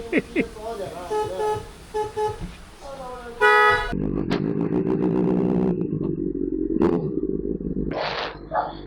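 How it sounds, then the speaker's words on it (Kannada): Horn of a Benelli 600i motorcycle with modified dual horns, sounding in bursts that switch between a loud and a softer tone, close by, with talk earlier. "ಗಟ್ಟಿ ಹಾರ್ನ್ ಬೇಕಂದ್ರೆ ಇಲ್ಲ ಒತ್ತರ್ಸೈ, ಹಗೂರ ಹಾರ್ನ್ ಬೇಕಂದ್ರೆ ಇಲ್ಲ ಒತ್ತರ್ಸೈ"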